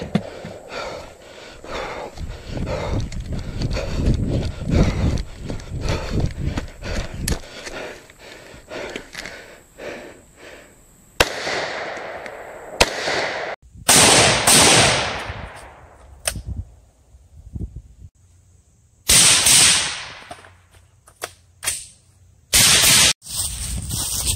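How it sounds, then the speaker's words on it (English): Suppressed AR rifle fired with a short-barrel upper and Wolf ammunition outdoors: a dense stretch of rapid shots followed by several separate loud cracks with ringing decay, heard close. "We're going to be shooting it with the SBR upper suppressed with the Bushnell TRS 25 red dot, shooting some Wolf ammo"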